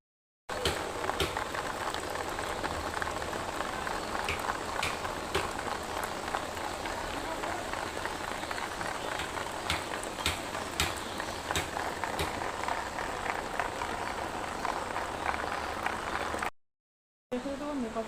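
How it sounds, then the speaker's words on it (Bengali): Steady rain falls outdoors as a constant hiss with scattered drop patters, broken by a brief silence near the end. "এই দেখো সকাল থেকে বৃষ্টি হচ্ছে"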